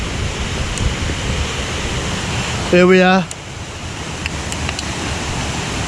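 Wensley waterfall rushes in a wild outdoor setting, a steady broad roar of falling water filling the scene throughout, with a brief spoken phrase and a short tonal beep partway through.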